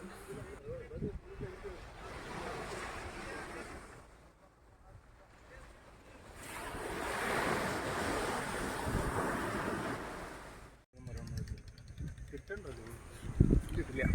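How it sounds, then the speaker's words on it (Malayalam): Strong sea wind buffets the microphone on Cherai beach, roaring in long loud gusts with a brief drop near the middle and a sharp cut before rougher gusting at the end; a boat lies on the sand nearby. "തിരികെ നടന്ന ഞങ്ങളെ അതിഭീകര കാറ്റാണ് വരവേറ്റത്"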